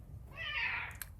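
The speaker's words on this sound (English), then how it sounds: "That's my cat." A cat gives a single soft, drawn-out meow nearby, faint against a quiet room, followed by a small click.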